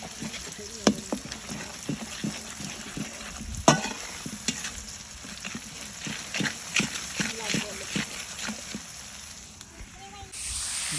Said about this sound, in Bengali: এগুলো মশলা মানে কষা নিতেছে কষার মতো ভাজা নিতেছে